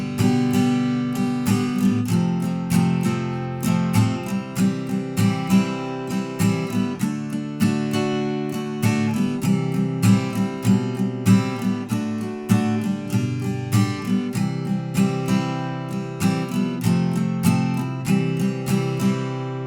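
Acoustic-style guitar strumming the verse chords of a song, a steady rhythmic strum pattern with chord changes, close and moderately loud, played alone without talk.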